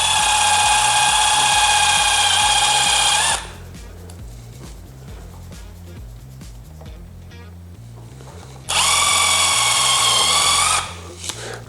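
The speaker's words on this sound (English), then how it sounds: "first thing you're going to want to do is drill through that with an 1/8 inch drill." A small power drill with a 1/8 inch bit whines loudly through a KTM handguard in two sustained bursts, with quieter handling noise in between.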